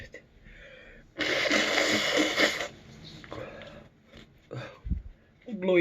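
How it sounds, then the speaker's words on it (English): Someone blows their nose in one loud, rough, sustained burst lasting over a second, followed by softer sniffs and breathy throat sounds up close. "I'm blowing my nose."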